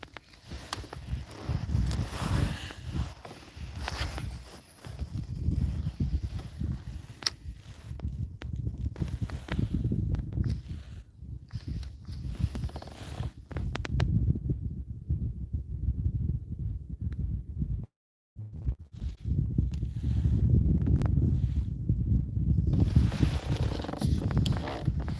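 Slight wind blows outdoors on open water, a steady low rumbling buffet that continues almost the whole time with one brief drop-out.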